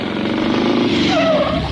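A motor tricycle arrives in front of a house, its engine a loud, steady buzzing drone close by that holds throughout, with a rising whine near the end.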